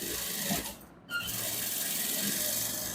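Sewing machine running steadily while stitching a men's shorts, a continuous close whirring that pauses briefly near the start and then resumes without a break.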